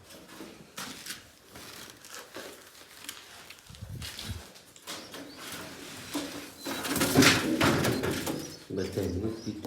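Pigeons in a newly set-up coop, with soft cooing and wing or body rustles close by, plus crinkling handling noises; the sounds grow busier and louder toward the end.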